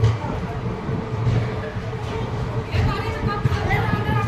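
A passenger train pulls into New Alipurduar station on a foggy run, its low rumble and rattling carriages steady and close throughout, with voices murmuring in the background.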